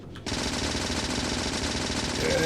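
Rapid, continuous automatic gunfire tears into a structure in the video game Factorio, loud and unbroken from just after the start to the end.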